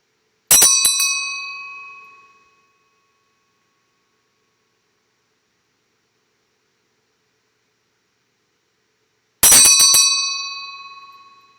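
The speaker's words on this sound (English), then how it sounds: "Why don't you start the bell?" A bright bell rings twice, roughly nine seconds apart, each strike loud and clear and ringing out for about two seconds before fading into silence.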